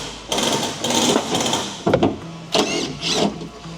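Tools undo two bolts on a vehicle's tie-down straps in a series of close, loud whirring and rattling bursts separated by brief pauses, with no talk.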